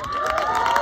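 A crowd at a high school marching band battle cheers for the North Forsyth band, a steady, loud wash of cheering and shouting with no clear talk over it.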